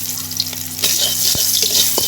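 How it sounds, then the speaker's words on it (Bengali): Chopped onions fry in oil in a wok, a continuous hissing sizzle with a few sharp stirring clicks and scrapes, close and steady throughout. "পেঁয়াজটা একটু ব্রাউন কালার যতক্ষণ হয়নি ততক্ষণ ভাজবো।"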